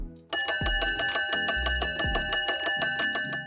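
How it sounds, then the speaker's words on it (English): A Parliament division bell rings continuously in rapid, even strikes, loud and close, with a bright metallic ringing tone sustained throughout. "At times you may hear the division bell."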